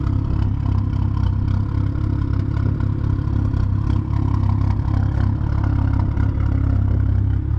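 A tuned BMW engine with about 155,000 miles idles loudly close by, a rough, throaty low drone with a faint clattering texture throughout.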